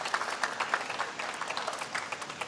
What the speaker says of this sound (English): a round of applause for the speakers